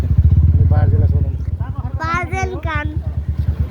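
A motorcycle passes along a road in Chapakharka, its engine a steady low drone that rises and falls as people talk loudly over it nearby.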